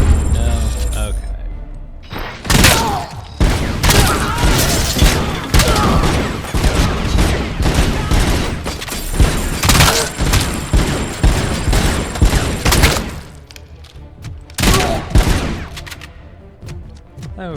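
Rapid bursts of weapon fire in the RoboCop: Rogue City game, loud repeated shots and booms clustered in volleys over most of the stretch, with brief quieter gaps between bursts and a voice talking over parts of it.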